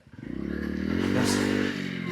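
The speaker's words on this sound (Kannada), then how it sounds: "ಸ್ಕೂಟಿ ತಗೊಂಡು ಮೇಲೆ ಬಂದಿದ್ದಾರೆ" A scooter straining uphill on an off-road track, its small engine buzzing loud and close with a fast pulsing putter that rises in pitch as it revs, with faint scraping and clatter over the rough ground.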